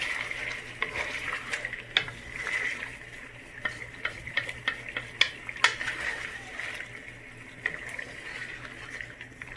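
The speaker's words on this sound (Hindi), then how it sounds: "अब इसमें 2 मीडियम टमाटर डालें और इसको हम अच्छी तरह से मिक्स कर लेते हैं" Tomatoes are stirred into chicken frying in a pan, with a steady sizzle beneath repeated scraping and clinking of a spoon against the pot at an uneven pace.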